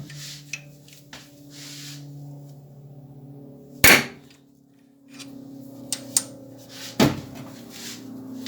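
Several sharp metallic hammer strikes on a punch held in a homemade punching slide on a milling setup ring out: two loud blows stand out among smaller taps and clatter over a low machine hum, close and sparse.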